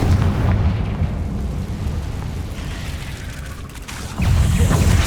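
Bombarda and Confringo spells blasting in the Hogwarts Legacy video game, a rumbling series of deep booms and bursts that swell, dip and return loud near the end, with no talk.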